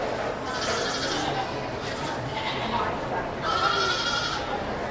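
Dairy goats bleat repeatedly in a county fair show arena, several loud calls rising over steady crowd chatter and a continuous announcer-style voice talking throughout.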